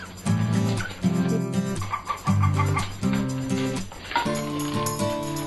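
Farm ducks on a small family farm, one a drake called Mr. Quacks, give a run of loud, close honking calls in irregular bursts with short pauses between them, and no talk over them.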